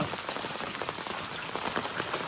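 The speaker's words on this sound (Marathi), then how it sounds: "पाऊस काय थांबायचं नाव घेत नाही" Steady rain pours down on a village lane near Alibag, a close, dense patter of drops on surfaces with no letup and no voices.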